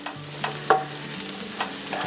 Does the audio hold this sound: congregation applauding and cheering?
no